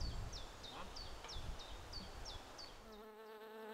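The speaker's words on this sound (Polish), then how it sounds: "Pszczółki pracują" Honeybees buzz around a wild tree hive in a forest beekeeping setting, a dense, steady outdoor hum with repeated chirping bird calls over it and a brief tonal hum near the end.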